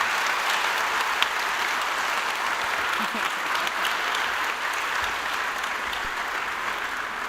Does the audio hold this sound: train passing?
no